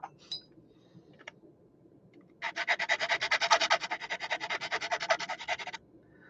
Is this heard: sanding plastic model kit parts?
yes